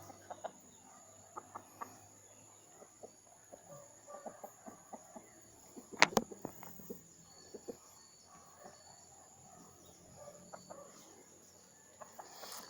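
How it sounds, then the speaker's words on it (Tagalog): Chickens and a chick cluck softly near a cage, scattered short calls spread throughout over a faint steady background hum, with one sharp clank midway. "Ang sisiw ko papasok na sa kanyang hawla."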